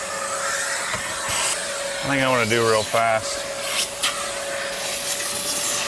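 A vacuum cleaner runs steadily on the carpet of a BMW E36 M3, a constant hum with a faint whine that continues throughout while someone briefly speaks over it.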